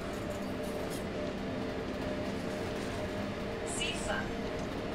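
A locomotive in Train Simulator 2017 on the Semmering railway climbs a mountain gradient out of a station, giving a steady low rumble and drone throughout with a few faint higher tones near the end.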